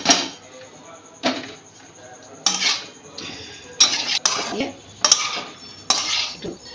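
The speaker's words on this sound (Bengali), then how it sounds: "এবার ওটাকে দিয়ে দেবো কড়াইয়ের মধ্যে। আমি একবারেই ঢেলে দিলাম।" Boiled banana flower tipped all at once into a wok and then stirred, bringing a series of loud clattering metal scrapes and knocks of a spatula against the pan at uneven intervals, with a voice speaking between them.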